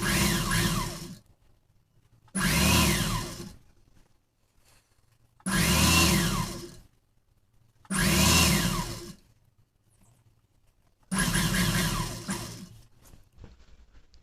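A sewing machine stitches the neck of a lining blouse with a round V neckline, running in five short, loud whirring bursts of about a second each, separated by quiet pauses, close up.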